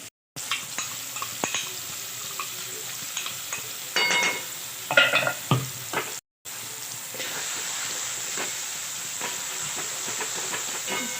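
A ground moong dal mixture, coarsely blended, fries and sizzles steadily in a pan for the whole stretch, with occasional stirring scrapes and two brief silent breaks.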